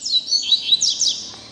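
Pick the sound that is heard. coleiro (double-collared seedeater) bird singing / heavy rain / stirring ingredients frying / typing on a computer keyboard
coleiro (double-collared seedeater) bird singing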